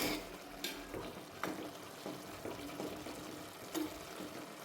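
Lentil mixture stirred in a pan after a piece of tamarind goes in, low steady sizzle with a few soft scrapes and clinks of the spoon spaced through the clip.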